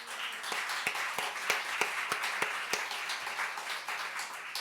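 A church congregation claps together, a quick, fairly even run of distinct hand claps lasting several seconds, moderately loud and somewhat roomy, with no speech over it.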